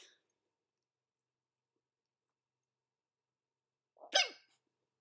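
A single sharp hiccup from a person in a quiet room, one brief close voiced catch near the end after near silence.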